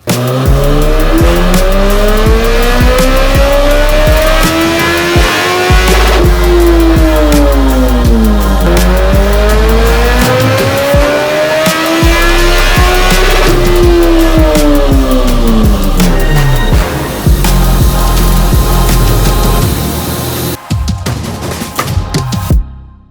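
A 2024 Suzuki Hayabusa fitted with Brocks cams and a Yoshimura AT2 exhaust runs loud and close on a dyno, its revs sweeping up and down in repeated smooth arcs before the engine note cuts off near the end.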